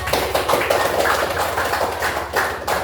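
A class group clapping in a steady patter of overlapping claps, fairly loud and continuous, with a low hum underneath.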